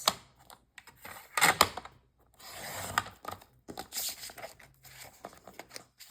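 A Cricut cutting machine cuts a sheet for a craft project, giving off bursts of whirring, scratchy mechanical movement and clicks with short quiet gaps between them, close and fairly soft.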